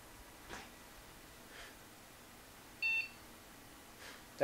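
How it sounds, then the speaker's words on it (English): A single short electronic POST startup beep from a newly built custom PC sounds in an otherwise quiet room, faint rustles and clicks around it. "That beep is usually a good sign"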